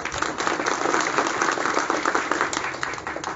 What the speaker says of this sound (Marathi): सगळ्यांसाठी एकदा तुम्हीच टाळ्या वाजवा